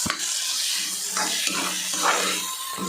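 Dried fish stirred into tomatoes and onions in a hot pan, with a soft, steady sizzle and a few light scraping strokes of the spoon, close and moderately loud, no talking.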